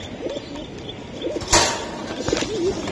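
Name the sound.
pigeons cooing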